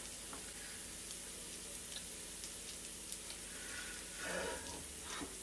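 Plant-based bacon sizzles in a pan, a steady soft crackling hiss with occasional small pops and a brief louder flare near the end, no talking.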